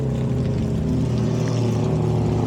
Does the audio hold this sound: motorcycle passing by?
yes